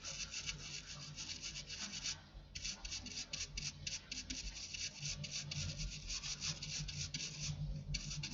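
A soldered joint on a Bose car amplifier circuit board from an Audi is scrubbed clean, giving a steady, close, gritty rubbing and scraping in quick back-and-forth strokes with brief pauses, and no one talks.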